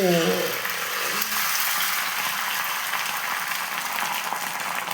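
Egg batter spread over an oiled pan with bread pressed into the middle, crackling and sizzling loudly and continuously up close, with no talk over it.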